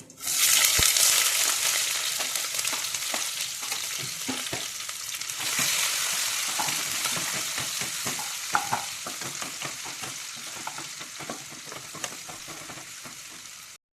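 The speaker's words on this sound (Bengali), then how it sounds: "এবার কেটে রাখা পেঁয়াজ, কেটে রাখা কাঁচা লঙ্কা আমি এর মধ্যে দিয়ে দেবো" Chopped onion and green chili frying in hot oil with cumin seeds, a steady loud sizzle with scattered crackles and occasional stirring scrapes throughout, no voices.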